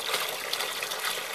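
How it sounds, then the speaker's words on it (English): Water drains freely out of an aquaponics grow bed, a steady close gushing trickle with no pauses. "drain the water out of this grow bed"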